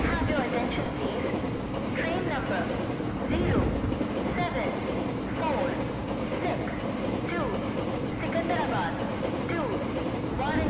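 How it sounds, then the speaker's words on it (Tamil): A parcel train rolling past in a Train Simulator rail game, a steady rumbling drone with rhythmic clacking of wheels over rail joints, loud and continuous while someone talks over it. "So one more train just coming on. Parcel train தான் சொன்னானுங்க"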